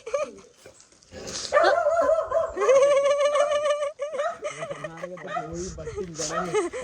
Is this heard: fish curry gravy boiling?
no